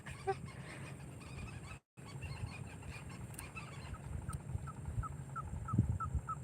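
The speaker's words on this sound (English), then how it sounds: "You guys hear that bird?" Outdoor bird calling in a rural setting, a series of short repeated honking or cawing calls at moderate distance over steady background noise, with a brief dropout partway through.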